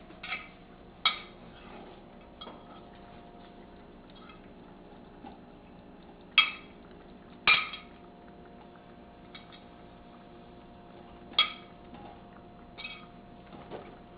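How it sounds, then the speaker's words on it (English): Mushrooms and peas go into a simmering tomato curry in a pan, giving soft irregular clicks and taps of a spoon and ingredients against the cookware over a quiet low hum. "now we are going to add mushrooms and peas in it"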